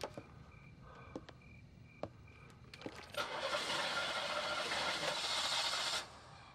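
A car engine is cranked but fails to start: a few sharp clicks, then a steady grinding whir for about three seconds that cuts off without catching.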